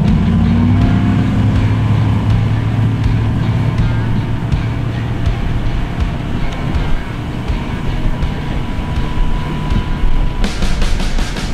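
An outboard motorboat pulls away across a lake on a spring pike-fishing trip, its engine droning loud and steady with water and wind rush throughout, a brief burst of clatter near the end.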